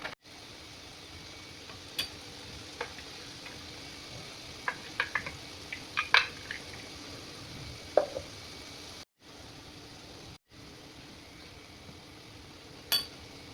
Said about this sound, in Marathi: हे मसाला आपण तेलामध्ये टाकून घेतला आहे। आता छान याला परतून घेऊ।